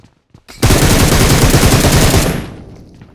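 Sustained burst of automatic gunfire in the PUBG video game, loud and close, a rapid rattling stream lasting about two seconds that then cuts off, with no talk over it.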